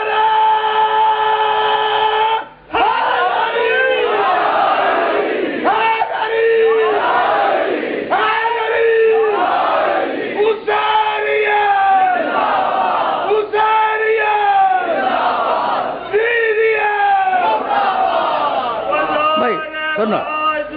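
A large crowd at a religious gathering chants a slogan loudly in unison answering a leader's call, repeated rhythmic shouts through a reverberant, slightly distorted public address.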